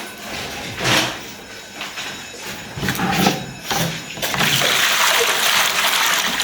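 Cold water splashes and runs while a household article is rinsed by hand, with uneven sloshing bursts giving way to a steady rushing pour near the end.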